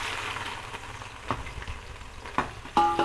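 Onions sizzle in hot oil with cumin for dal makhani, a soft steady frying hiss broken by a few sharp clinks of a stirring spoon against the pan.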